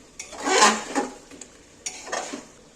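Chicken pieces with spices are stirred in a pan, two scraping bursts of a spoon against the metal, close and clear, with quiet gaps between them.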